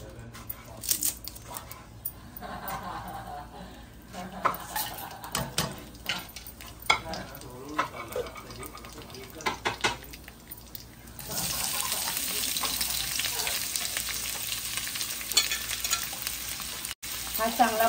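Garam masala being fried in two or three spoons of oil in a kadai and stirred, prepared for chicken biryani: a spoon scrapes and clatters at first, then a steady, close, loud sizzle takes over for the last several seconds.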